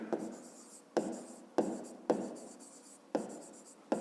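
Pen or chalk writing out an equation for a fifth-grade perimeter exercise, close and alone, in repeated scratchy strokes with sharp taps starting each of about six bursts.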